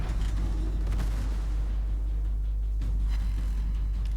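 Naval gun fire in the World of Warships video game, aboard the battlecruiser Stalingrad: a loud, deep boom up close at the start that rolls into a steady low rumble, then a fainter second thump.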